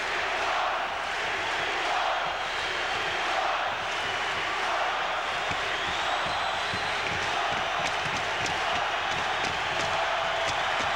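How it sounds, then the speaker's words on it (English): A packed hockey arena crowd at Joe Louis Arena in Detroit, at a 1996 Red Wings game, roars and cheers continuously, a loud, sustained wall of noise with scattered whoops and no spoken words. "And listen to this crowd."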